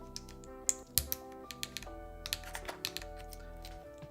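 A Wraith 60 mechanical keyboard is typed on in close, crisp, irregular clacks with a few heavier key strikes, over a quiet backdrop of soft music.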